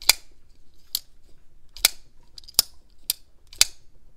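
A button lock folding knife with stonewashed finish snaps open and closed six times, producing sharp, crisp metallic clicks at an uneven pace, close and alone in a quiet room.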